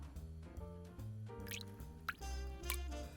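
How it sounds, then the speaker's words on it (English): Hot water is poured slowly over coffee grounds for a pour-over brew, giving quiet, close trickling and dripping sounds in uneven bursts with soft splashes. "that we kind of pour evenly."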